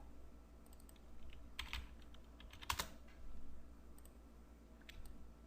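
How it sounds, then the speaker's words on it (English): Soft computer keyboard typing at a desk, a few scattered keystrokes and a brief quick burst, fairly quiet with no voices. "Just type logo."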